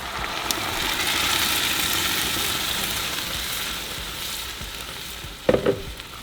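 Steady sizzling and frying of blended chilaquiles sauce poured into hot oil, a continuous hiss with a brief clatter of stirring near the end.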